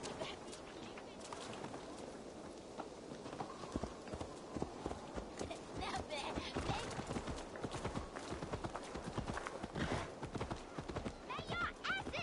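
In Assassin's Creed Valhalla, the summoned horse Faxi gallops with rapid, rhythmic hoof clops close by, a whinny breaking in, while a voice speaks over the hoofbeats.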